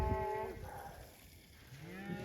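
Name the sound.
cattle mooing on a snowy cattle drive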